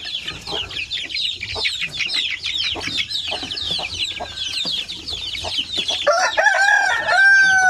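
Native Basilan and Zamboanga chicks, about 45 days old, cluck and peep in a dense, continuous chorus close by, with sharper chirps and calls rising toward the end.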